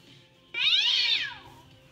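A cat gives one clear, drawn-out meow that rises and falls, fairly close and loud against a faint, quiet background.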